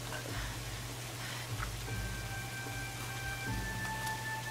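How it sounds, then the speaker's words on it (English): Pouring rain in the video game Tomb Raider patters steadily and softly, a continuous hiss with a low rumbling undertone and a few faint tonal sounds. "In the pouring rain."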